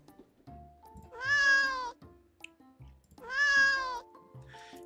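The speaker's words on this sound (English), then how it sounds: "Oh my god, there's a kitty. You can now pet the kitty." A therapy cat in the video game Therapy Simulator meows when petted, two clear drawn-out meows a couple of seconds apart, loud and close with little else around.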